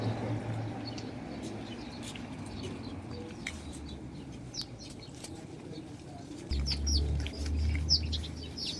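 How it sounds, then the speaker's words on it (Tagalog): Many birds chirp and tweet in an open outdoor setting, scattered short calls near and far over a steady low background rumble. "Uy, ang daming ibon."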